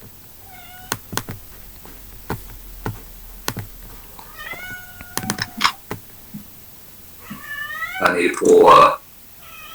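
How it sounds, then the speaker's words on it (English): A pet cat meows loudly several times with rising, harmonic cries during a tabletop role-playing game session, mixed with keyboard typing clicks and a voice talking, ending in a louder burst near the end. "my cat's being a fucking loud bitch"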